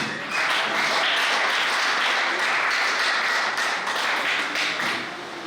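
A church congregation claps and applauds, a dense, steady wash of hand claps that holds loud and even for several seconds before tapering slightly at the end.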